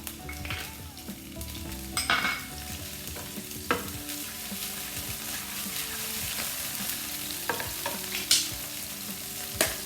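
Garlic stir-frying in a pan for beef and broccoli: a continuous loud sizzle with repeated scraping and clinking of a spatula stirring, close up and free of speech.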